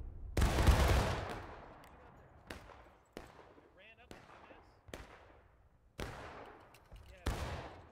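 A big ragged musket volley crashes out in the Civil War game War of Rights, followed by scattered individual shots echoing and decaying over several seconds, some nearby and loud, others more distant.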